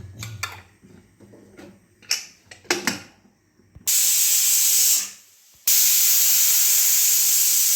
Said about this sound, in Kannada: ನೋಡಿ, ಈಗ ಕುಕ್ಕರು ವಿಷಲ್ ಬಂತು.